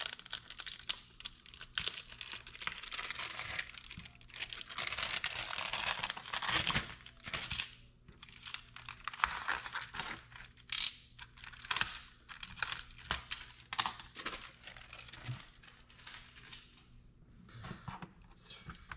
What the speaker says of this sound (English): Let's pull this Kapton tape off.